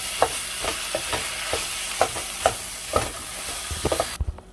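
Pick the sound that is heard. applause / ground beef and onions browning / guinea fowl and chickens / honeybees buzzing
ground beef and onions browning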